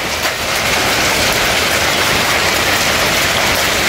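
Hail pours down outdoors in a dense, loud, steady hiss of countless small impacts, continuous and without any voices.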